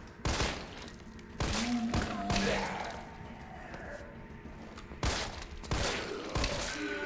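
Shotgun blasts from a pump-action weapon in the video game Resident Evil 3 Remake, fired in a basement facility: about six loud, sharp booms come in uneven clusters, with quieter game ambience and movement between shots.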